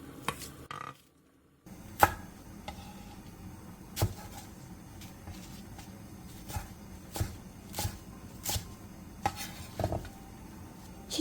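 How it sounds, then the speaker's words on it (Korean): Knife chopping green onion, chili peppers, napa cabbage and perilla leaves on a board, with sharp, separate cuts spaced irregularly and a short silent gap near the start, close and moderately loud, with no talk. "알배추 3장과 깻잎 7장은 길게 반으로 잘라준 뒤 먹기 좋은 크기로 잘라주세요"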